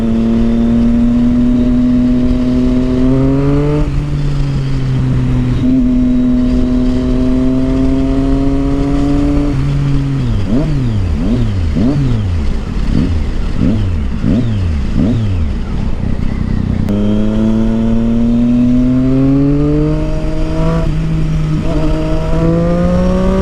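A Triumph Street Triple motorcycle fitted with a loud Yoshimura exhaust idles and revs up close, its throaty drone climbing in long pulls, then a burst of quick sharp throttle blips before settling into steady rising revs.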